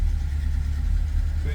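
A 1984 Chevrolet C10 pickup idles with a Jasper replacement engine and a mild cam, giving a steady, close, low rumble that holds even throughout.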